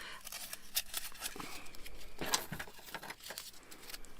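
Scissors cut a run of thin strips for a doll's flower shop window trim, with several crisp, close snips spaced irregularly over steady room noise.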